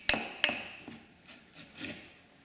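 Metal part of an Affordaplane ultralight kit plane knocked flush during assembly in a workshop: two sharp close strikes followed by three softer taps, alone with no talk.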